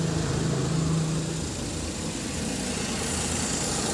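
Suzuki minivan engine running steadily with a cracked drive belt, a close, continuous mechanical rumble and whir without pauses or talk.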